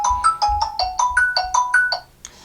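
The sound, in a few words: Ringtone on Xiaomi Redmi Note 8 phone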